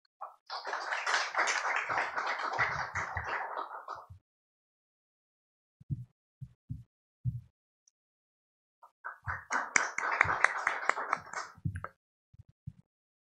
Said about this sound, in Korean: 박수로 환영하여 주시기 바랍니다.